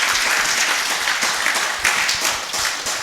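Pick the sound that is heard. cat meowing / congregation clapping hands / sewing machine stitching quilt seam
congregation clapping hands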